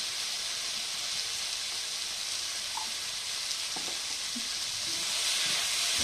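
Chicken frying in a pan with chilli, a steady broad sizzle running throughout with a few soft stirring scrapes, close and moderately loud, no voices.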